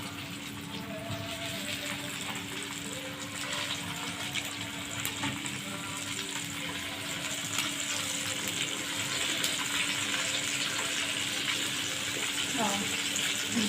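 Fish frying in hot oil gives a steady, close hissing sizzle that holds evenly from start to finish with little change in rhythm.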